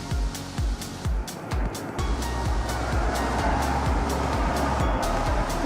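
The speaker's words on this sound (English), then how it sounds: "can hear the cars going around" Road traffic passes outside, heard from an outdoor porch as a steady rushing wash, with repeated low knocks close by in the foreground.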